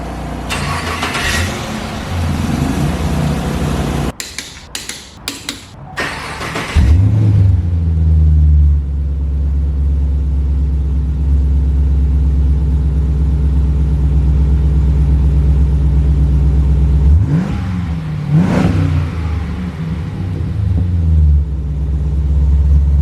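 A car's engine sits idling with its exhaust rumbling after work on chopped springs, brakes and wheels. Several short bursts come first, then it catches into a steady, loud, low drone, with one brief rev partway through and no talk.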